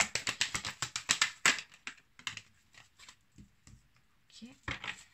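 Tarot cards are shuffled in a fast run of crisp riffling snaps, then a few softer card slides and taps follow as single cards are drawn, ending with another quick flutter of shuffling.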